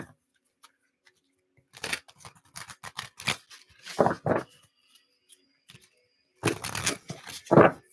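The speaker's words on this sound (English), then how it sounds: "Just going to shuffle the deck to break up the energy." A deck of oracle cards is shuffled close up in bursts of crisp riffling and flicking, with irregular pauses and a louder flurry near the end.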